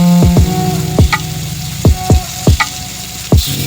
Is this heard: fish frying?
yes